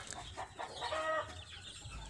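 Chickens clucking at close range in a short, irregular run of calls, one call slightly drawn out, with low background rumble and no talk.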